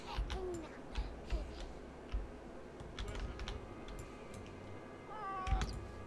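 A cat meows a few times in The Sims 4, short, thin cries scattered among soft keyboard clicks and light ticking, with no clear speech over them.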